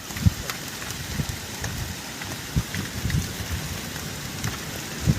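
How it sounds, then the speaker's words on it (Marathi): Heavy rain hisses continuously over a farm field, with low rumbling buffets of wind thumping in every second or so. "खूपच जोरदार पाऊस चालू आहे इकडं आणि हवा पण चालू आहे"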